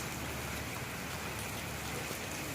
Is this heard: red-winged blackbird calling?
no